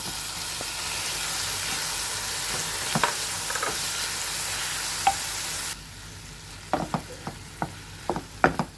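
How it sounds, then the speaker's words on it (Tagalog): Garlic and partially cooked shrimp fry in a hot pan, a steady close sizzle that drops after a few seconds into quieter frying broken by several sharp clicks and scrapes of stirring. "Fry a little bit, and then let's add our partially cooked shrimp."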